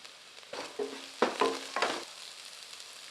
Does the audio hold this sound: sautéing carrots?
yes